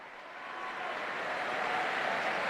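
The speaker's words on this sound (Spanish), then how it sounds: "escuchamos pues a todos los peregrinos y fieles el gran aplauso por su llegada" Pilgrims fill the Paul VI Hall with a dense, hissing wash of applause as the Pope arrives for the general audience. The clapping sounds distant and swells gradually, with no distinct individual claps.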